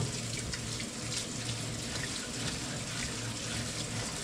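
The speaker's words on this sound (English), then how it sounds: "I clean my cooking stick when it is still wet, just like this." A wooden cooking stick is rinsed under a steady stream of running water from a tap, a continuous close splashing hiss with no talk over it.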